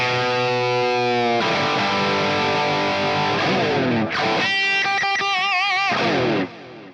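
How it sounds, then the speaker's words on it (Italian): Electric guitar played with heavy distortion, a loud sustained chord sliding into bending, wavering lead notes and vibrato before cutting off near the end, with no talking. "Se poi spingiamo tanto con la distorsione, la chitarra ci asseconda tranquillamente"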